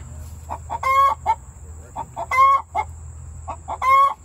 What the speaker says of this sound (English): This chicken is announcing that she has officially laid an egg.